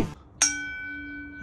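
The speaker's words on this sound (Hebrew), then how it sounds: "אתם שמעתם את הגונג?" A single gong strike rings out after a brief sound, its bright shimmering tone sustaining and slowly fading.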